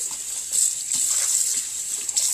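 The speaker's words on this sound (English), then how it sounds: "I'm going to rub the fibers together in my cloth, rinse it out," Tap water runs steadily into a bathroom sink as a cloth is rinsed under it, a continuous close hiss and splash with slight shifts in flow and no speech.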